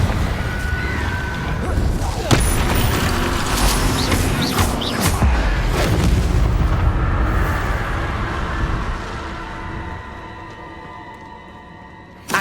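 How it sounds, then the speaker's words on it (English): A Confringo fire spell explodes in the Hogwarts Legacy video game, a loud, dense blast with crackling booms and bursts that fills the whole stretch, mixed with game sound effects and a brief voice. "Confringo!"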